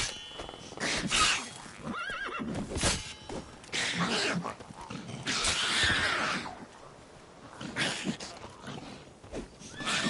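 Roach, a horse in The Witcher 3, neighs and whinnies in several loud, bright bursts between stretches of hoof and movement noise, close and clear with no talk.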